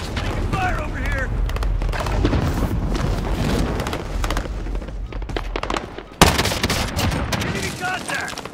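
Heavy gunfire and explosions rumble through a Call of Duty battle, loud and sustained with booming bursts and a sharp blast midway, while voices talk over the combat.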